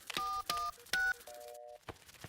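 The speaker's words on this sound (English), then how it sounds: "I'll ring for more elves. Oh, where can I get a signal on my phone?" In a children's cartoon, a phone is dialed with a quick run of three clear touch-tone beeps, then a longer two-tone chime and a couple of soft clicks, all bright and close.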